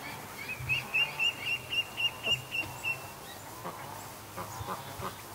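Ducks on a lake give a run of about nine quick, evenly spaced honking calls over the first three seconds, distant and thin across open water, then fade to faint scattered calls over low ambient noise.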